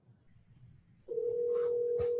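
An outgoing phone call rings on the line. After a second of faint background noise, a steady electronic ringback tone starts and holds at moderate volume until the end.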